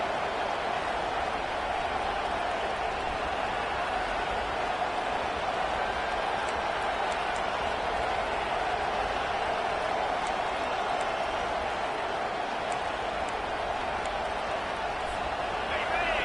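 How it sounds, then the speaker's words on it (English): Stadium crowd in College Football 25 roars steadily and loudly throughout, a dense sustained wall of noise trying to rattle the visiting offense, with commentary voices running over it. "This crowd trying to make life miserable for this offense."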